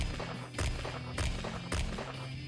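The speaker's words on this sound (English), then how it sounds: "followed by a series of gunshots from behind" Several loud gunshots go off in an even rhythm, roughly every half second, each a sharp booming crack.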